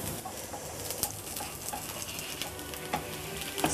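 Chickpea and lentil patties fry in a pan, a continuous close sizzle with occasional light pops and clicks and a faint background twitter.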